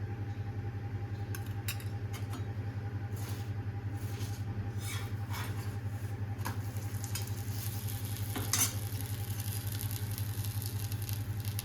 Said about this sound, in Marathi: तूप सोडायचं आता छान मस्त गावरान तूप